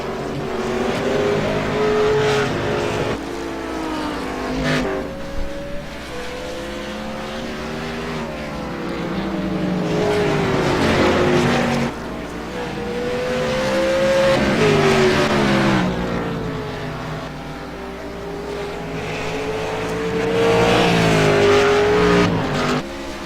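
Race cars lap a track, their engines loud and close, revving and dropping in pitch through gear changes and corners in a continuous roar with no talking.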